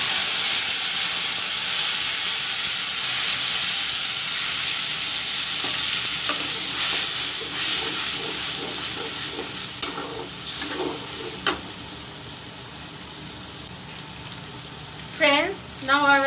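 Homemade spice paste sizzles loudly in a frying pan while a spoon stirs it, giving a close, steady hiss with scraping strokes. Brief clinks and a voice come near the end.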